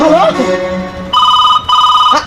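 A mobile phone call rings out through the earpiece as two steady electronic ringback bursts, following a brief stretch of someone talking.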